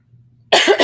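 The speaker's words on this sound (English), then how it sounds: "Not quite over this coughing fit." After a brief near-silent moment with low hum, a single loud, close, rough cough erupts and runs into a second burst, part of an ongoing coughing fit.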